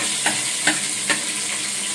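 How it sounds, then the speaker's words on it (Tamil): Onion, garlic and green chillies sautéing in a pan, a soft steady sizzle with three light stirring scrapes spaced about half a second apart. "வெங்காயமும் பூண்டும் பச்சை மிளகாய் 3 போட்டு வதக்குறேன்"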